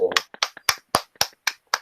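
A person applauds with about seven crisp, evenly spaced hand claps, close and clear in a quiet room, with no one talking over them.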